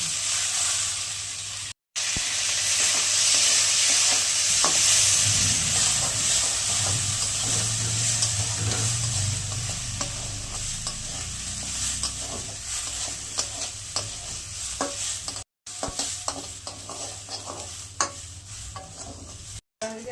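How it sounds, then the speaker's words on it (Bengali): Washed Gobindobhog rice frying in oil, a loud continuous sizzle with steady scraping and stirring of a spoon through the grains, close up, briefly cutting out a few times. "এবার একটু তেলের মধ্যে ভেজে নিচ্ছি।"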